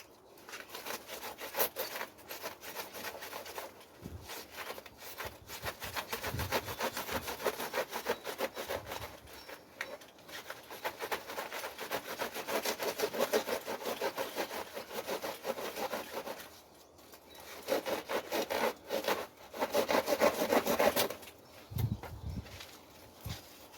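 A short, stubby hand saw cuts near the ground to divide a clump of dendrobium orchids, a quiet rasping rhythm of repeated strokes with brief pauses and a few soft knocks between runs.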